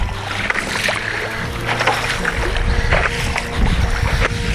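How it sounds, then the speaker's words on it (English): Steady wind and lapping water on a bay during stand-up paddle boarding, a constant broadband rush with low rumbling gusts throughout, close and fairly loud, with no voices. "Sorry the background noise, we are on the bay doing stand-up paddle board exercise"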